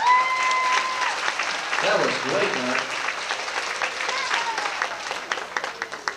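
An audience applauds after a trombone solo at a concert featuring Christmas carols, with steady, loud clapping filling the space while someone speaks over it near the end.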